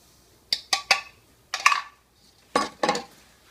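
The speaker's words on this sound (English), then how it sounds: "we're going to mix the sugar and the cocoa for the sauce" A metal spoon stirs sugar and cocoa powder in a pot, giving sharp clinks and scrapes in three small clusters separated by brief pauses, close and clear.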